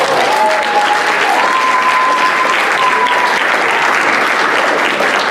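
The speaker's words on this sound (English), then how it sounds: "Give her a round of applause." An audience at a sketch comedy and improv show gives a steady, loud round of applause, thick continuous clapping with a few whoops or whistles riding on top.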